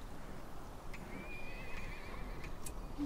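Horses whinny in the Lord of the Rings: The Battle for Middle-earth video game, a thin high neigh rising and wavering over a steady low rumble of game ambience, with a couple of faint clip-clop knocks.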